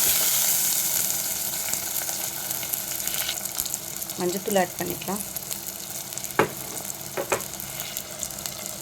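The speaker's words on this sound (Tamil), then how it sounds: "நல்லா மிக்ஸ் பண்ணி வச்சுக்கோங்க எண்ணெயிலே நல்லா குக் ஆகட்டும்" Eggplant sizzles in hot oil with a steady crackle while a voice speaks briefly over it. A few sharp clinks stand out.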